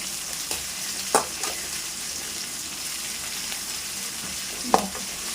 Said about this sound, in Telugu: ఇవి కూడా బాగా మనకి నూనెలో కానీ వేగినాయి అంటే బాగుంటాయి